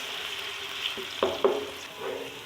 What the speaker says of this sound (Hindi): इसको प्यारा सा ब्राउन सा कलर देती हूँ प्याज को